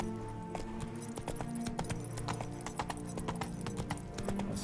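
Clip-clop of the horse Roach's hooves climbing a hill in the video game Witcher 3, a steady run of distinct hoof strikes over a low game ambience.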